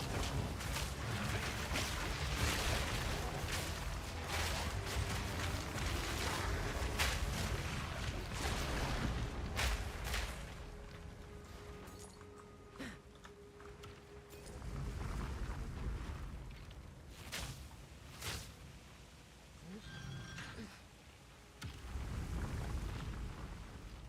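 Repeated booming explosions in a video game, loud rumbling blasts with sharp cracks that come in bursts, separated by quieter gaps, with no talking over them.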